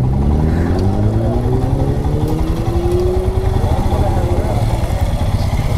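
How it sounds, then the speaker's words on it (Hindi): Superbikes, a Kawasaki Z900 and a Suzuki Hayabusa, rumble nearby as they arrive and pull in, engines idling and revving with a rising pitch, steady and fairly loud throughout. "तो ये Z900 आई है और एक हायाबुसा भी आ गई।"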